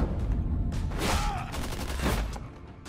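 Video game gunfire in Tales From The Borderlands, a dense rattling fusillade of rapid shots that runs loud and continuous through the whole stretch, with no clear speech over it.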